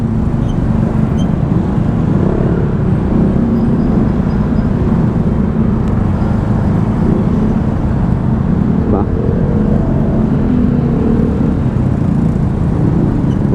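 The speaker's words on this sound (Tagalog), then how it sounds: "traffic is our life" Heavy, congested road traffic on Ortigas Avenue, a loud constant rumble of idling and slowly moving vehicles heard from close by, with people talking faintly over it.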